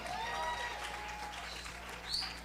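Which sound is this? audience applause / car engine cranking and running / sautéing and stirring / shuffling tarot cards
audience applause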